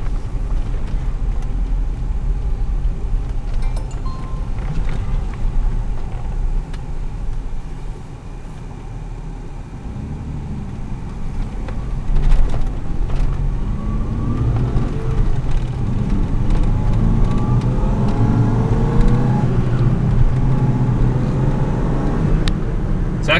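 A 2004 Toyota Tacoma extended-cab 4x4 pickup with a V6 and five-speed manual drives along, its engine drone and road noise steady and loud throughout, swelling into a stronger acceleration pull over the second half.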